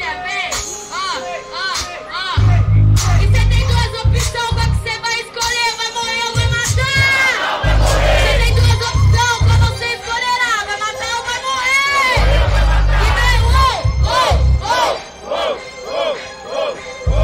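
A crowd at a Brazilian street rap battle in Itaquera roars and chants loudly and continuously, with shouting voices and busy music layered over a thumping bass beat.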